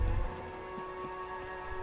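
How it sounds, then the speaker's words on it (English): Rain falling on the great city of Revachol in the game Disco Elysium, dripping from eaves and flooding gutters; a soft, steady wash of rainfall over a low, sustained ambient drone, with no voices. "Rain drips from the eaves and floods the gutters, washing the filth away."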